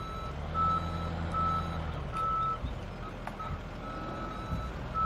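Truck engine rumbling steadily while plowing snow in Farming Simulator 17, with a repeating reversing beep sounding over the low drone, close and continuous throughout.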